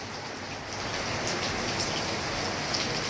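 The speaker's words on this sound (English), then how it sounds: "it's raining, a heavy downpour" Heavy rain pours down in Accra, a dense, close and continuous hiss of drops striking surfaces that swells slightly louder after the first second, with no voices.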